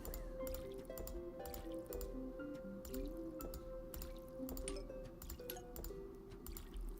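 A watering can pouring on plants in the Zen Garden of Plants vs. Zombies, with soft dripping, splashing liquid sounds and light chimes and clinks over steady game music.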